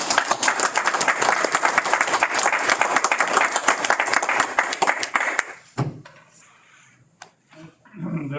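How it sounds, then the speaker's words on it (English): Applause from attendees at a county board meeting, a dense round of clapping that lasts about six seconds and then drops off abruptly to a quiet room with a few scattered sounds. "I'd like to suggest that we all give them a round of applause."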